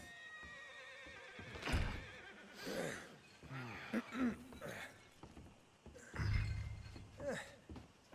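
A horse in a Western video game whinnies and snorts several times at close range, mixed with hoof clops, throat clearing and scattered character voices.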